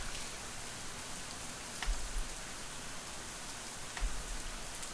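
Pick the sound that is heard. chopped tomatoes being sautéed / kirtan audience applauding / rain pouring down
rain pouring down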